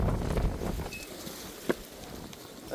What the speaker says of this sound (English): It's windy, that's my main concern.